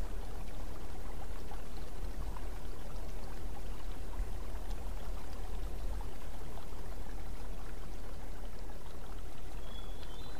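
The Payette River in west central Idaho flows steadily in autumn woods, a dense, continuous wash of rushing water that stays close and even throughout with no voices.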